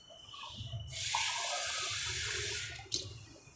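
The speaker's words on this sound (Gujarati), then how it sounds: "આપણે 2 કપ ભરીને પાણી નાખીશું" Water pours steadily from a tap, filling a cup to go into a pressure cooker for boiling mangoes, a loud continuous rush lasting about two seconds before it cuts off, followed by a brief splash.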